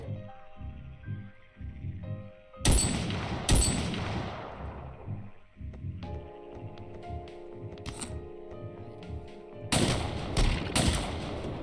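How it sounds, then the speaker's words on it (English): Sharp gunshots from a bolt action rifle in a first-person video game, a few loud separate cracks with ringing tails spaced by seconds, over tonal game music and ambience. "we'll try the bolt action rifle, I guess"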